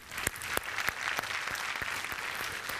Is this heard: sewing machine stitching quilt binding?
no